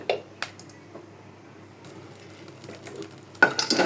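Dried chili lightly frying in a pan for a shutki bhorta: soft sizzling with scattered stirring clicks against the pan, building into a louder crackling burst near the end.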